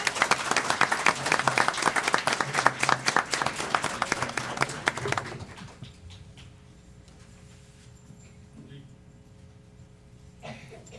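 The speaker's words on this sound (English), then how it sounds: "Let's give them a big round of applause" An audience at a school board meeting applauds second-grade students, loud and sustained clapping for about five seconds that then drops away to a quiet room with faint murmurs.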